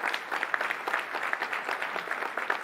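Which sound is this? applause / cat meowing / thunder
applause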